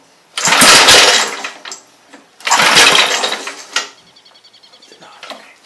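A 5 HP Briggs and Stratton small engine, fresh from a carburetor replacement, is pulled over twice: two loud bursts of sputtering, roaring cranking, each dying away after about a second and a half, with quieter mechanical rattling trailing after.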